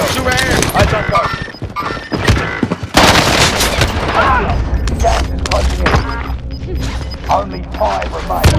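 Call of Duty: Warzone firefight, with a loud burst of gunshots and rapid automatic fire cutting through mechanical clatter and impacts, mixed under steady, excited talking throughout.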